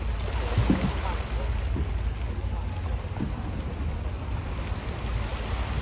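Fishing boat heading out on the sea off Gorée, Senegal, a low steady engine rumble mixed with wind and waves, distant and continuous, with a few faint voices.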